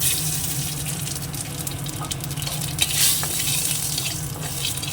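Dried red chillies and radhuni seeds fry in a small amount of hot oil, giving a steady close sizzle and crackle with a few sharper pops and no voices.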